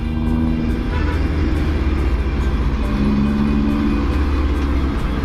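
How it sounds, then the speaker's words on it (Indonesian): Busy road traffic with many large vehicles such as trucks and buses, heard from a motor scooter riding between rice fields, a steady loud rumble of engines and wind throughout. "Di sini ramai kendaraan besar."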